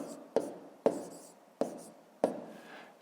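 A pen writes numbers on paper for a column multiplication in a fifth-grade maths exercise: four crisp, close tapping strokes at roughly even intervals, each with a short scratchy tail, in a quiet room.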